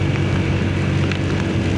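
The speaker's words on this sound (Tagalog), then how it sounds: "Sinabayan pa ng ulan-ulan." Light rain patters steadily on a car climbing a foggy mountain road toward Baguio City, a constant wash of hiss over low road rumble, with no voices.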